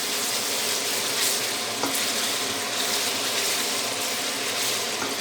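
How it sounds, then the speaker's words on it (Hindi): Chopped ginger and spices fry in a pan for cauliflower sabzi, giving a soft, continuous sizzle with faint stirring clicks and no voices. "ये चॉप की हुई है, पीसी नहीं। अब इसको भूनेंगे।"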